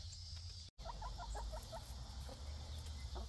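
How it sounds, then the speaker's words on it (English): Chickens in a backyard garden coop give a run of short, soft clucks in quick succession, faint against steady outdoor background noise, with a brief dropout early on. "All right, let's go see the chickens."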